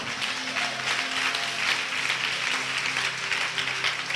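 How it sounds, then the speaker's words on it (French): A church congregation at a prophetic healing service claps steadily, producing dense, continuous applause throughout, with faint voices and a low sustained tone underneath. "Acclame Jésus-Christ ce soir"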